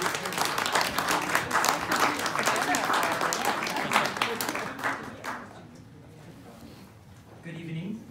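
An audience at a university endowment gala breaks into loud, dense applause that holds for about five seconds, then fades into quieter room sound as a voice begins.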